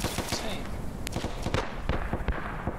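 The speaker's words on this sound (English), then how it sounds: "this is the perfect area to fire that Piat" PIAT anti-tank weapon shots and scattered gunfire in an Arma 3 battle, several sharp bangs spaced irregularly over a couple of seconds, with a voice talking between them.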